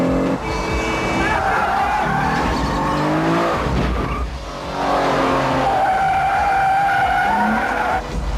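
Movie car chase through the narrow streets of Old Nice, with tires skidding and squealing and engines revving loudly and continuously, while actors' voices sound over the chaos.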